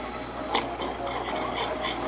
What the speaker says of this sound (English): So each time you add a handful, whisk it really well.